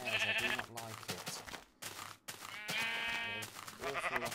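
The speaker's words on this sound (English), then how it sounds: "There's an awful lot of sheep around here." Sheep in the video game Minecraft bleat repeatedly and close by, several wavering calls following one another with short gaps between them.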